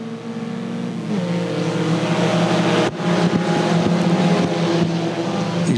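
Race cars roar off the green flag in a dirt-track heat race at Thunder Hill, several engines droning and revving together with a sharp shift in pitch midway, loud and sustained.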